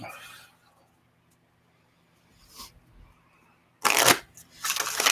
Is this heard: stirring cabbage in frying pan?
no